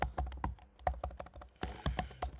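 Fingers tap a computer keyboard in quick uneven runs of close, crisp keystrokes, with a brief pause before a final flurry of typing.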